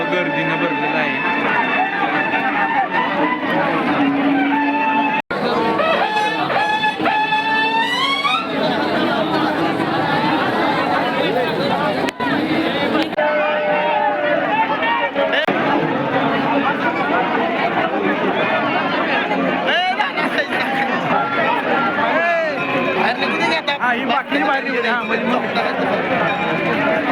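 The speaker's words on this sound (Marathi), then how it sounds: "मंदिर खूप गर्दीनं भरलेलं आहे." A dense crowd of devotees fills a packed temple during the Padali yatra fair, a continuous close din of chatter and voices with tonal music or chanting threaded through, steady and loud throughout.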